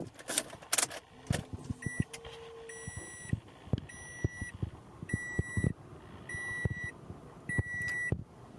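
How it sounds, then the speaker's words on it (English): A 2012 Toyota Prius C's seatbelt chime beeps in repeated evenly spaced bursts, clear above a low engine rumble and scattered clunks inside the cabin. "Besides the seatbelt alarm going on and off"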